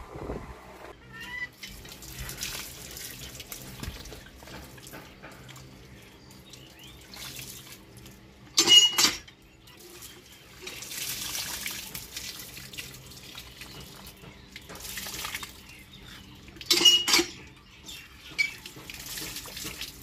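Mangoes are washed under a running tap in a sink, giving a steady trickle with louder splashing surges as the fruit is rinsed, close by and without talk.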